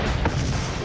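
A bomb explodes on a boat in a film scene, a deep, dense blast rumbling loud and continuous across the moment with no clear onset or tail.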